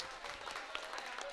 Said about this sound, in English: So can you all give a round of applause for Rudra?